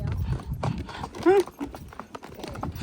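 Pony hooves clip-clop along a mountain trail in a steady walking rhythm, close by, with a whinny rising partway through and people talking over the steps.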